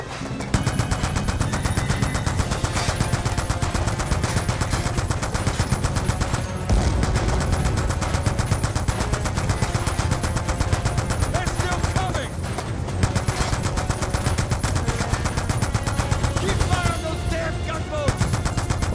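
Mounted machine guns on a barge in Call of Duty: Black Ops 2 fire in rapid, continuous bursts with barely a pause, loud and up close, while voices shout over the gunfire.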